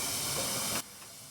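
A steam locomotive at the Welshpool and Llanfair Railway steam gala lets out a loud, steady hiss of steam that cuts off sharply, leaving a quieter background.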